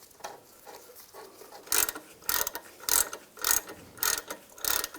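A ratchet tightens the rear brake caliper bracket bolts on a 2002-2009 Chevrolet Trailblazer, with about six rhythmic bursts of close, crisp pawl clicking separated by brief pauses, and no talking.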